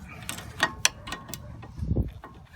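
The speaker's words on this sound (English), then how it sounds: "Take your ratchet wrench." A ratchet wrench turns a 14 mm nut on a rear strut of a 2006 Toyota Avalon, giving a short burst of a few crisp, close metallic clicks over a faint low rumble.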